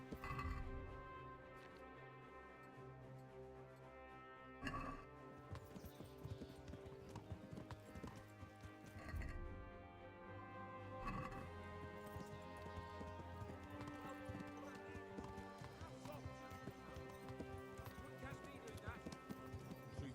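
Horse hooves clip-clop at a steady trot in the medieval game Kingdom Come: Deliverance, heard close and continuous under a layer of music and occasional tack jingles.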